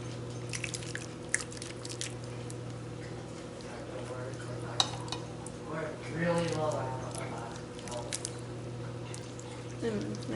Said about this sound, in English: So now we are going to pour our sauce over our noodles.